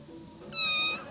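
A cat gives a single clear, close meow lasting about half a second after a quiet start, with no talk.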